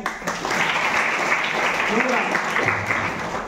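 A room of schoolchildren clap together in a classroom, a dense, steady patter of many hands lasting several seconds, with voices mixed in.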